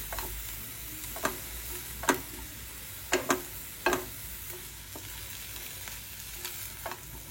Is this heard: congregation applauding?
no